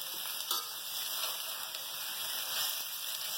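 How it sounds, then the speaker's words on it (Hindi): Cauliflower and potato fry in a pan with garlic, ginger, curry leaves and cumin for a masaledar gobhi aloo, a steady close sizzle with occasional light stirring clicks. "अब हम सब्जी थोड़ी सी 5 मिनट फ्राई करेंगे।"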